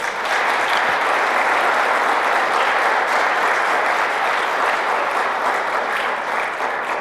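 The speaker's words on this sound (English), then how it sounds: "let's give NJIT a round of applause." A room at a STEM opening day event applauds NJIT with steady, loud clapping from many hands, a dense, even roar that holds for about seven seconds without a break.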